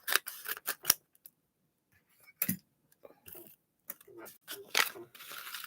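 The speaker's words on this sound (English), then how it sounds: "I'm going to cut the lid right here in front of you." Small scissors cut through a plastic lid in a few short, crisp snips and crunches, close and fairly quiet, with someone speaking between the cuts.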